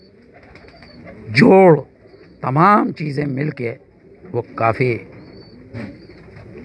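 Golden baajra pigeons coo in a few low, throaty bursts, close and fairly loud, spaced across the span while someone talks over and between them.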